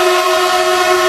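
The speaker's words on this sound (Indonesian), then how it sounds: "Nah, kereta cepat Wush." A Whoosh high-speed train in Indonesia gives a loud, continuous, steady tonal roar like a horn or whistle, unbroken and close throughout.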